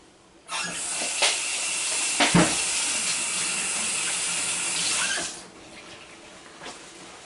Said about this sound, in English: I'll wash my hands now.